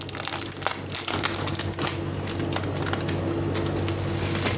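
A plastic bag of kofta spice mix crinkles and rustles close up in a home kitchen while bulgur kofta is being made, a steady crackling texture with sharp ticks over a low background hum, with no talk.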